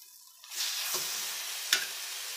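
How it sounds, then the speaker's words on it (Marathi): Amaranth leaf greens drop into a hot pan of browned onion, setting off a sudden loud sizzle that holds steady, with a couple of sharp clatters from the utensil. "आता याच्यामध्ये ही भाजी टाकते."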